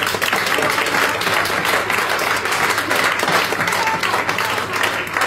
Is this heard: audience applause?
yes